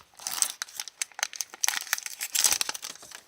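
Crinkly plastic foil of a Pokémon card booster pack torn open by hand, a burst of close, sharp crackles and rips in quick uneven bursts with no talking.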